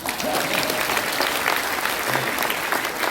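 An audience at a church leaders' acceptance speech claps continuously, a dense patter of many hands filling the space at moderate volume.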